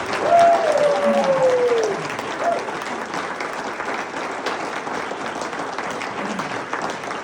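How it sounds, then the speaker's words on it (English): An audience at a school award celebration breaks into a warm round of applause that swells at first and then carries on steadily, with a voice briefly heard over the clapping. "Let's give him one more huge round of applause."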